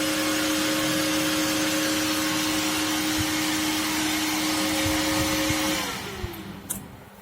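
A small electric fan powered by an old 5V charger boosted to 12V runs with a steady, loud whirring hum and a clear tonal whine, then winds down and fades near the end.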